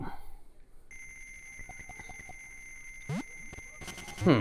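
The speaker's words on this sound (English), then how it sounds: "Turn off the alarm clock." An electronic alarm clock rings in Wario Land 2 on the Game Boy, a sustained high chiptune beeping tone with simple blips and chirps from the game's basic sound chip, steady at moderate level.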